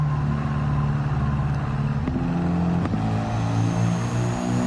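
Upgraded Mercedes-Benz Unimog truck in Gran Turismo 7 driving under steady, loud engine drone with layered low harmonics, a couple of brief gear-shift blips interrupting the continuous hum.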